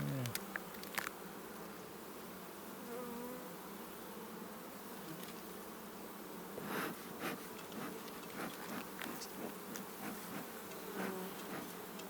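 Honey bees buzz in a dense, steady hum around an open beehive, close by and continuous, with individual bees droning past.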